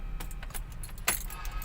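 Keys jangle while the ignition key of a diesel van with a loose battery terminal is turned, a few light metallic clinks and one sharper click over a low steady rumble, no speech.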